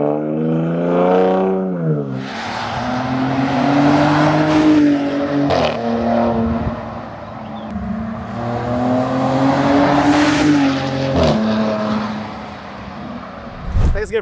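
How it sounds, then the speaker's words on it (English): A RAM RHO pickup with an AWE exhaust accelerates on the road, its engine note rising through gears with deep, loud rumbling sweeps and brief dips at each shift, while people talk inside the cab. "It sounds great revving it up, but you really want to hear this thing on the road."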